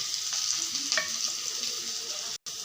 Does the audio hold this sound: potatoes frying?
yes